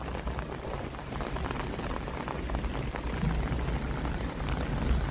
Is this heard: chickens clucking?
no